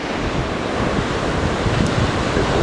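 Ocean waves break on the sand at an Atlantic surf beach, a steady close roar of surf with wind noise buffeting the microphone and no voices.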